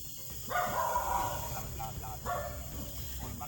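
Several dogs bark in short bursts, moderately near, over a constant background hiss, with a faint voice mixed in at points.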